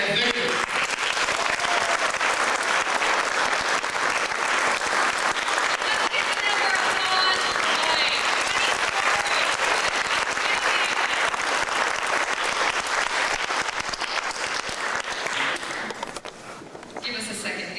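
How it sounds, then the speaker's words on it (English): Warm, sustained applause from a comedy club audience for the musicians Janet, Ryan and Victor, a dense, loud wash of many hands clapping with some crowd noise, holding steady for about fifteen seconds before tapering slightly at the end. "let's go ahead and give a warm round of applause for Janet,"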